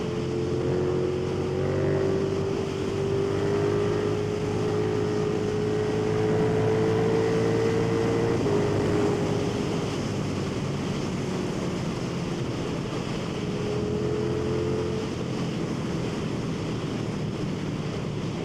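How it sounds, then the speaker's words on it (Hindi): A KTM 1390 Super Duke motorcycle is held at full throttle in rain mode, its engine drone climbing slowly in pitch over steady wind and road noise. No one speaks. "रेन मोड में मैं फुल थ्रोटल भी दे रहा हूँ तो RPM बढ़ने में थोड़ा सा टाइम लगता है।"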